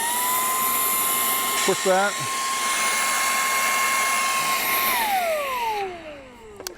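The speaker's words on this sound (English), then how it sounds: "So now I've had a chance to test out the Ryobi mid-size spot vacuum." A Ryobi cordless mid-size spot vacuum motor holds a steady high whine for several seconds, then winds down in a falling tone as it is switched off; a voice speaks briefly near the start.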